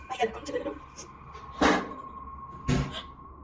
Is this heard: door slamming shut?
yes